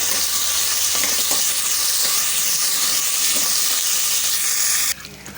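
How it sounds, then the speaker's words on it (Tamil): Dried turkey berries and curry leaves frying in hot oil in a pot, a loud continuous sizzle and hiss that holds steady, then drops off sharply near the end. "சுண்டவத்தல் பொரிஞ்சு வந்துடுது"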